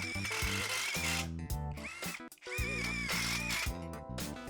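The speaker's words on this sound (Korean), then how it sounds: "짧은 직결 나사 체결해 보겠습니다." Cordless 14.4V impact driver driving a short self-drilling screw into a steel square tube: a loud, rapid hammering whine that pauses briefly mid-way, then resumes until the screw seats.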